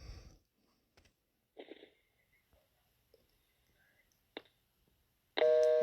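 A telephone line clicks and rustles quietly after the caller hangs up, then a loud steady busy-signal tone cuts in at the end.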